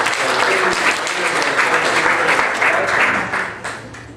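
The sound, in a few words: audience applause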